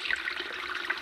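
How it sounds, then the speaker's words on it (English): Small waterfall spilling over tightly packed stream gravel in the Mennock Pass, Scotland: a steady, close hiss of splashing, trickling water, unbroken and fairly loud throughout, with no voices. "We've got a little waterfall here"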